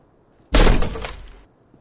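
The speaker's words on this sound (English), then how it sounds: "Bent metal, broken glass." Glass breaks and metal bends in the video game Disco Elysium: one loud, close crash that begins abruptly, rings with crunching and scraping for about a second, then cuts off into quiet.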